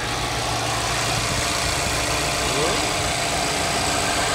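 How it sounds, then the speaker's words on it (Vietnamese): A 2016 Mazda 3 with automatic transmission idles with a smooth, steady low engine hum, close and constant, while someone talks over it. "Tiếng động cơ nghe nó êm ru luôn."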